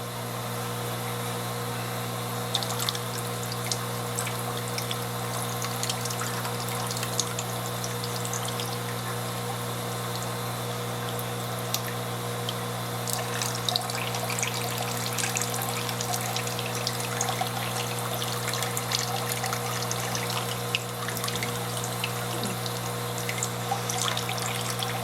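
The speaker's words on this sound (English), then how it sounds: "you put the vinyl tubing into the tank, and you start the siphon" Water trickles and runs steadily through vinyl tubing as it siphons out of a clownfish growout tank, a continuous close flow over a constant low pump hum, with no talking.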